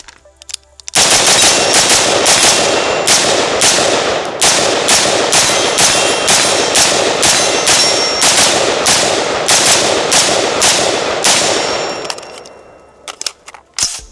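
A Radical Firearms RF-15 SOCOM AR-15 rifle fires 75-grain hollow points in a rapid mag dump at a range, with about twenty loud, sharp shots in a fast, even string. A few scattered clicks and clanks follow.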